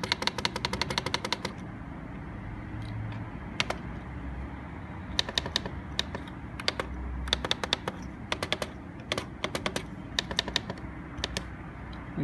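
Someone types on a computer keyboard while configuring a Hikvision fingerprint attendance terminal: quick clusters of crisp key clicks in short bursts separated by pauses, close and fairly quiet.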